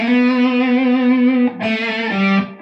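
An electric guitar plays a lick of full string bends, distorted and sustained, with a long held note sliding upward into a second bent note that rings and then fades.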